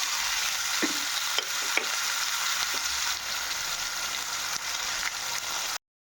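Spices with garlic and ginger paste sauté in hot oil for a tengra fish curry, a continuous close sizzle with a few soft scraping stirs, ending abruptly.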